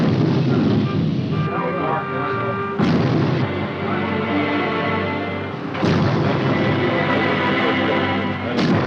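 Naval guns firing aboard the USS California, three heavy booms spaced a few seconds apart, each a sharp blast trailing into a long rumbling decay over shipboard machinery hum, with radio-style voices in between.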